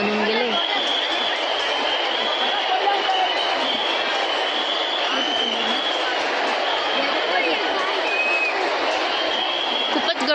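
Dense crowd murmur at a Shiv Mahapuran religious gathering, a steady wash of many voices mixed with children's chatter, loud and continuous throughout with no single sound standing out.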